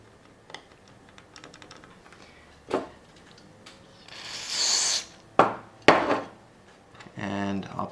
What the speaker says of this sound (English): kind of scrape anything away that's on the lead